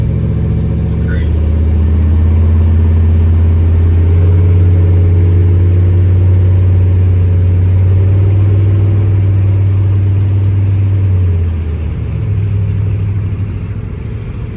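A 1970 car with a stock, uncammed LS-swap engine cruises with a loud, steady low drone heard from inside, easing briefly near the end before picking up again, with a person talking over it.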